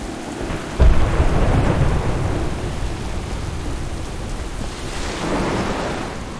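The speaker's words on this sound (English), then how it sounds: "Captain, we can't weather this storm for long." A World of Warcraft thunderstorm at sea: a thunder crack and rolling rumble near the start over steady heavy rain, with another low swell of thunder toward the end.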